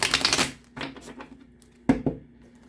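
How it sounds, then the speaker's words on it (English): Tarot cards being shuffled up close, a few quick papery riffles and soft slaps in short irregular bursts. "One more shuffle"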